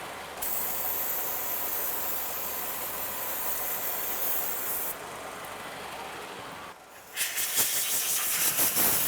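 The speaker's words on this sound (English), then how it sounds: "We'll give it a little spritz with some parts cleaner" Steady hiss of parts cleaner aerosol sprayed onto a 2005-2010 Chevrolet Cobalt transmission oil pan, one long continuous burst that changes tone partway through, then a brief gap and a rougher, spattering spray.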